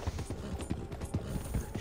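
Horse hooves clip-clop in a steady trotting rhythm, fairly close and loud, in the Red Dead Redemption 2 video game, with faint game ambience behind.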